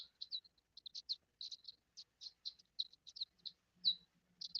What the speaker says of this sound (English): Sounds like there's a bird out there. I'm reading, I'm hearing a bird.